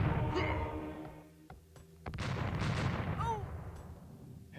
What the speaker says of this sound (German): Alle schießen.